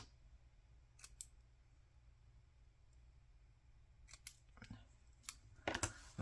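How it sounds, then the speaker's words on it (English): Scissors cut paper cardstock, trimming around a shape and its corners, heard as faint, close snips in small clusters over a quiet room hum, with the snipping growing busier toward the end. "I'm just cutting it out, leaving more cardstock around"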